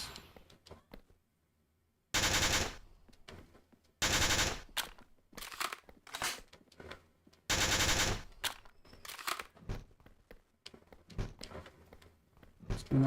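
Bursts of rapid automatic gunfire ring out in the Nazi Zombies Portable video game on Nintendo Switch, several loud, sharp volleys separated by short pauses and scattered single shots.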